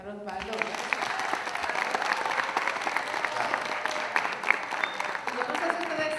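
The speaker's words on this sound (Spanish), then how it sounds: "Démosle primero un fuerte aplauso al señor Osvaldo." An audience at a panel talk about whales gives a strong, steady round of applause, dense clapping lasting several seconds with a voice briefly audible at the start.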